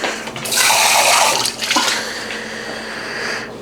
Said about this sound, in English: The water's warm. I'll wash my cup.